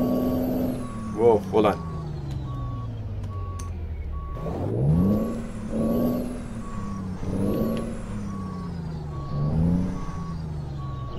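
Truck reversing beeps in American Truck Simulator as the rig backs up while hauling cars, an evenly spaced electronic beep under engine drone with air-brake hisses, and a brief spoken remark.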